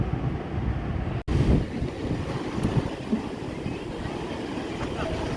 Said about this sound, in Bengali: এই হলো রাতের সমুদ্র